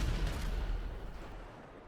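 A burst of cannon fire from an aircraft weapon in GTA Online, a dense rattling volley that starts loud and fades over under two seconds, heard alone without talk.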